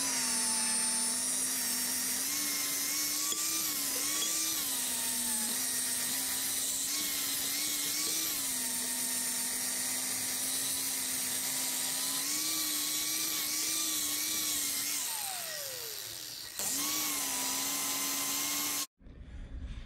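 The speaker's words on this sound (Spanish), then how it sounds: "Vamos a proceder a molar para dejarlo bien prolijo" An angle grinder smooths a weld joining a steel flat bar to a tube on an adjustable shelf bracket, a loud continuous high whine with slight pitch dips under load that winds down near the end before starting again briefly.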